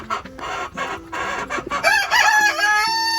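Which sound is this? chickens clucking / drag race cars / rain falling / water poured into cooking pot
chickens clucking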